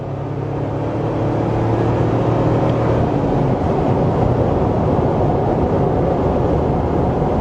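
A 2025 Toyota 4Runner TRD Off-Road SUV accelerates, a steady loud engine drone with low rumble building and holding throughout, no voices over it.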